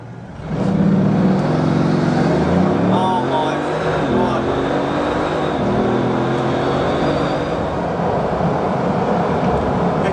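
A Bugatti Veyron 16.4 launches hard from a standstill, a loud, sustained engine roar rising steeply in pitch through rapid gear changes and holding steady at high speed for several seconds.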